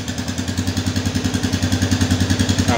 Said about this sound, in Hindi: जैसे इस तरह से हमारा इंजन स्टार्ट हो गया, हम इंजन की आवाज़ सुन सकते हैं कितनी प्यारी है।